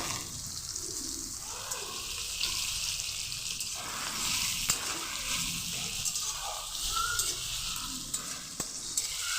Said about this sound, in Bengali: টমেটো ভাজা হয়ে গিয়েছে